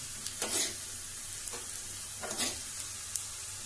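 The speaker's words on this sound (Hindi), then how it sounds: "प्याज भून गया हमारा तड़का, और ये जाएगा इसमें देखो दोस्तों, साबुत धनिया, खड़ी मिर्चें और हमारा जीरा" Onion, whole coriander, dried red chilies and cumin fry in a hot tempering, giving a faint steady sizzle broken by a few soft stirring scrapes.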